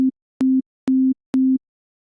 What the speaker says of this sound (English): by starting right at that loudness, we create a click